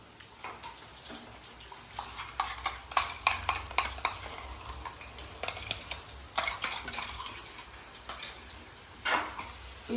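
A spoon stirs and scrapes ginger garlic chilli paste as it fries in a metal kadai, giving repeated clinks and taps in an irregular rhythm over a soft, steady sizzle.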